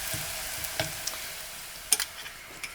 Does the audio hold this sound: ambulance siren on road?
no